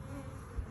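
Honeybees buzz around an open beehive during a honey inspection, a brief, faint, steady hum with no voices.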